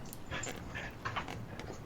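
A dog whimpers and pants in short, soft, high-pitched bursts, fairly close, over a steady indoor background with no talking.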